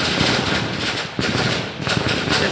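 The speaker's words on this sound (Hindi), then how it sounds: "जैसा आप पटाखे सुन रहे हैं, हम प्रकृति के बीच हैं, तो कोई अपने आनंद में पटाखे चला रहा है" Firecrackers set off for a wedding at a nearby house in a rural outdoor setting: loud, dense, continuous crackling bursts that rattle on without pause.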